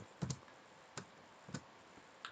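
Light clicks of keys on a computer keyboard as a few characters are typed, sparse and close, with short gaps between taps.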